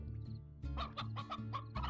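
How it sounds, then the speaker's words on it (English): Chickens cluck in the video game Slime Rancher, several short bursts in quick succession over a steady low game hum, close and clear. "Oh, chicken."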